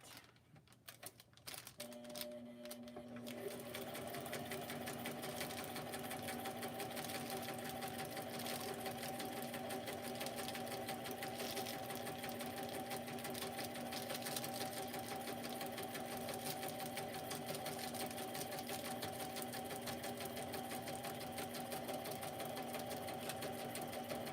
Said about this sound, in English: Let me sew this